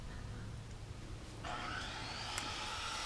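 A distant power tool cutting trim outdoors drones steadily in the background, heard from inside a straw bale house, its pitch rising partway through as it bites into material, muffled and faint.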